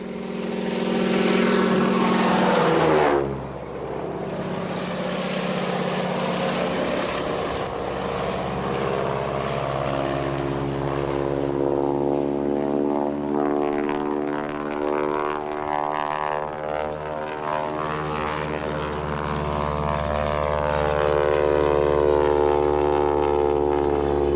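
A small propeller plane drones steadily for the whole stretch over the Australian bush, its engine holding a low, even hum with a brief louder surge at the start.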